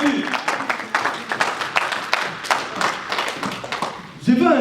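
A church congregation claps for Jesus in a dense, uneven burst of applause, with scattered loud hand claps and a voice rising near the end.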